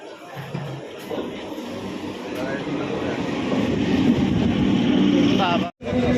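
Rumble and rattle inside a moving local commuter train, a steady rolling roar that grows louder over several seconds with a brief dropout near the end, voices talking over it.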